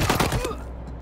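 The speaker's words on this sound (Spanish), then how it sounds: "Bien, le pegamos unos cuantos tiros." Gunfire in the video game Wasteland 3, a quick burst of several sharp shots in a rapid cluster, then a brief ringing tail fading out.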